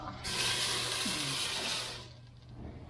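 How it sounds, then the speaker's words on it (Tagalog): Water pours into a cooking pot for mussel tinola, a steady splashing rush that begins abruptly, runs close and fairly loud for about two seconds, then cuts off into quiet. "nalagyan na natin ng tubig, 4 na baso"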